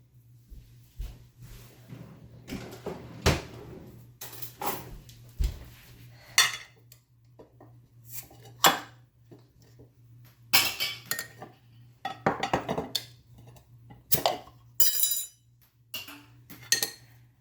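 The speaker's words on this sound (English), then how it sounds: "So you're going to open up your jars and put them in there." Glass jars of blackberry pie filling are opened and emptied into a 9x13 stoneware pan, heard as scattered clinks, knocks and scraping clatters of glass and metal, close up over a low hum, with no talk.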